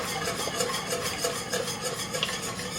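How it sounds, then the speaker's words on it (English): A spoon stirs a pot of chicken curry casserole just coming to a boil on a high burner, giving a steady close scraping and swishing with a faint sizzle underneath, with no talk. "So I'll stir it."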